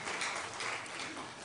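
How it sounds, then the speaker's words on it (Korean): Congregation applause for a church choir during a Sunday service, a short, continuous wash of many hands clapping, faint and distant. "다시 한번 박수 쳐서 칭찬해 주시면 고맙고"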